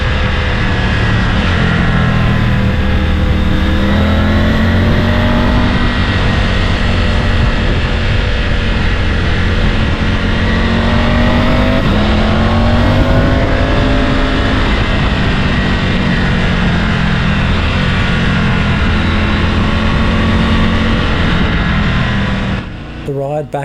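A Triumph Tiger 900 motorcycle climbs a twisty hill road near Bobbin Head in Sydney. Its engine is loud and close, with revs rising and falling through the corners over steady wind noise.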